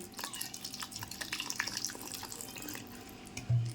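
Water poured into a bowl of batter ingredients for a stuffed ash gourd dish, a quiet steady trickle and splash close by, ending in a brief heavier pour.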